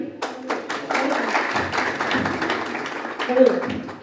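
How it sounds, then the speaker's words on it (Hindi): An audience at a startup roadshow event claps in a brief, uneven burst of hand claps mixed with talking voices. "अरुण के लिए तालियां दी"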